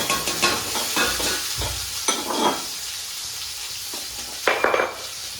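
Potatoes and tomatoes fry in a pan while being stirred, giving steady close sizzling broken by several louder scraping stirs and a few clinks, with no voices.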